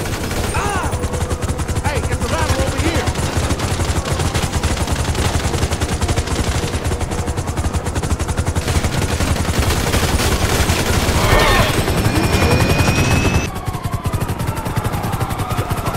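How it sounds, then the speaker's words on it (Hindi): Helicopter arriving in Grand Theft Auto V amid rapid machine-gun fire, a dense loud barrage that runs unbroken with rotor chop and booms mixed beneath. "डॉगी बाबा ने हेलीकॉप्टर बुलाया।"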